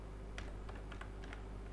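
A few faint, scattered keystrokes on a computer keyboard, light clicks spaced irregularly over a steady low hum, no voices.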